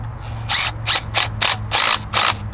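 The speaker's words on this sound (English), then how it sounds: "So then we take our impact after you hand thread it first." An impact wrench tightens bracket bolts on a track chain, firing six loud, close bursts of rattling hammering separated by short gaps over a low idle hum.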